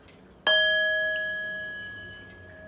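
A single bell is struck once and rings out with a clear, sustained metallic tone that fades slowly over a couple of seconds, with no voices over it.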